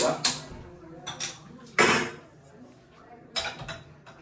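Metallic clanks and knocks of a frying pan being set down on a kitchen stove, several sharp separate hits spaced across a quiet background.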